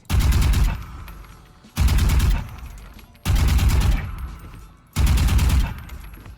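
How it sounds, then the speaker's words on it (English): Four short, loud bursts of Vandal rifle fire in the video game Valorant, each a rapid cluster of shots followed by a decaying echo and a brief pause before the next burst. "between 2 and 5 bullet bursts"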